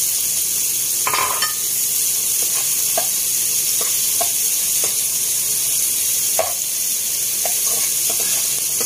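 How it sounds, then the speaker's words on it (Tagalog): Garlic added to onions sautéing in a pan for spicy pork dinuguan, a loud, steady hiss of frying with a few scattered stirring clinks and scrapes. "Tapos isunod ko yung bawang."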